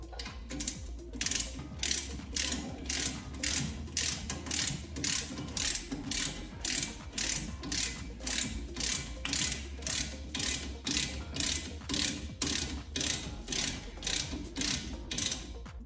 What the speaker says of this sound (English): So I have my torque wrench set at 10 foot-pounds with my 8 millimeter.